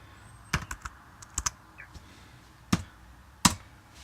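Someone types on a Mac keyboard in Terminal, a handful of sharp, close key clicks arriving in short bursts separated by quiet gaps.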